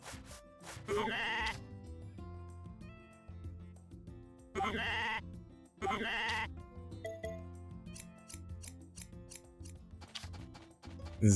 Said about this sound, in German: Ich glaube, das Schaf ist auch wach.